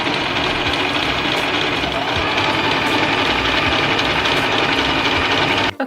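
A sewing machine stitching the trimmed edges of a patchwork top, running in one continuous, loud, close mechanical whir that stops abruptly at the end.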